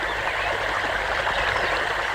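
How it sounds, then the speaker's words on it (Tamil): Water flowing through an irrigation channel in a garden, a continuous rushing trickle that stays steady and fairly close, with no voices. "தோட்டத்துல யாருமே இல்லங்கிற வாய்க்கால எவ்வளவு தண்ணி போகுது"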